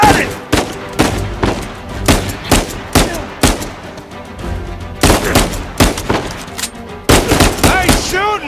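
Loud gunfire rattles through a firefight in the video game Uncharted 4, with rapid single shots and short automatic bursts cracking close by in an irregular rhythm, some softer shots between them.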